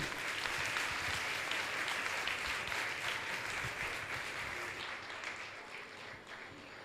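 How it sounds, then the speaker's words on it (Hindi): Warm, steady applause from a gathered congregation at a religious discourse session in Mithapur, Patna, continuing for several seconds and tapering slightly near the end. "ताली तो बजाइए आप लोग"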